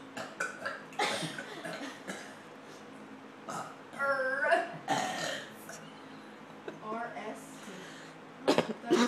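Burps voiced by a person reciting the alphabet, several separate belching bursts with pitched, croaky tones spread across the stretch, near and fairly loud, with brief talk and laughter between them.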